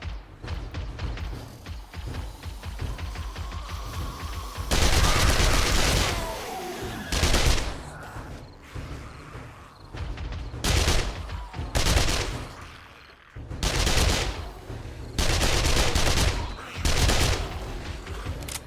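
Bursts of submachine-gun fire in the survival game 7 Days to Die, loud close rapid volleys of several seconds each, repeated about six times with quieter shuffling and thumps between them.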